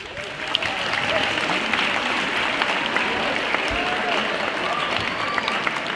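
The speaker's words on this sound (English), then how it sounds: "Please put your hands together." An audience at a talk welcomes a center back from Houston with sustained, even clapping, a few whistles and voices mixed into the steady applause.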